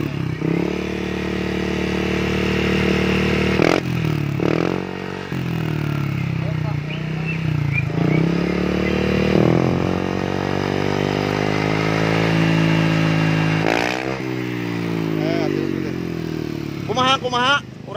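A Yamaha Lexi scooter engine with a modified stock exhaust is started and runs with a steady, deep bassy drone, with rising and falling revs and a few short blips. It sounds close and loud, and people talk over it.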